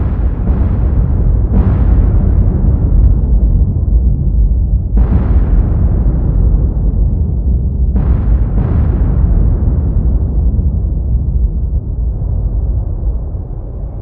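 Dropped charges explode in War on the Sea, heard as a run of deep, heavy rumbling booms. Four or five distinct blasts overlap into a continuous loud roar that fades slowly.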